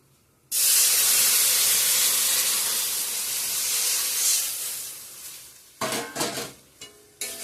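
A sudden loud burst of hissing steam as water hits a hot pan of fried lentils, roaring for several seconds then fading, followed by clinks of utensils against metal.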